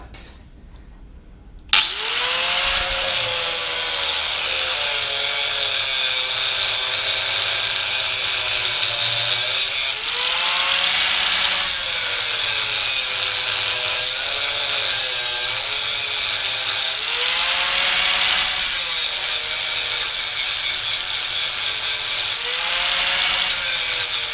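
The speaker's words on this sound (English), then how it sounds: "go ahead and use a grinder" An angle grinder cuts into a broken Ford Figo front outer CV joint, starting abruptly and then whining continuously and loudly, its pitch dipping and rising as the disc bites and eases, with no talk.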